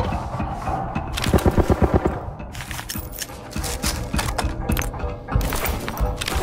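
AR30 rifle gunfire in the Arena Breakout video game, rapid loud bursts of automatic shots with short gaps, mixed with other gunfire close by.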